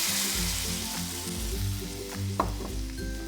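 Water poured into a hot wok of vegetables for a crispy noodle gravy dish, giving a steady hissing sizzle with a few clinks of utensils, close and without speech.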